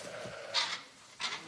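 Newborn lambs and sheep at a sheep farm bleat in two short, fairly close calls, one at about the midpoint and another near the end, with quiet barn ambience between them.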